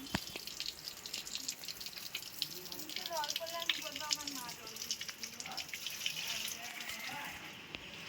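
Water poured onto plants on a veranda, a soft continuous trickle and splash with dripping, fairly faint and mixed with faint background voices and household noise.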